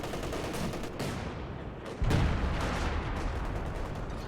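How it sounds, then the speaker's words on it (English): A mortar barrage in a video game battle: a dense cluster of crumping impacts and rattling gunfire, loud and continuous, with a heavier thump around the midpoint. "First barrage takes out a mine."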